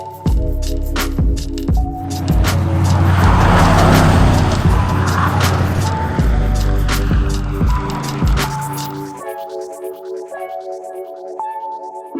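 Drift cars racing at an event, with loud engine roars and squealing tires rising and falling up close, then the noise cuts away to a quieter high hum.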